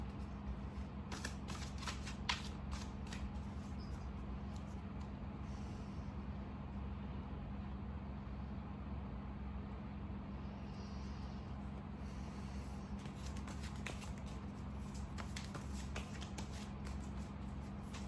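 A deck of tarot cards shuffled close by, a continuous soft papery riffling with repeated flicks and slaps over a steady low background hum.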